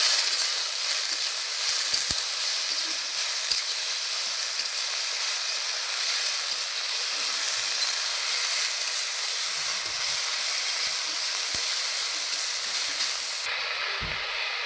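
Dhenki greens sizzle steadily in a hot pan with fried onion and green chilli, a continuous loud hiss of frying that holds evenly throughout with no talking.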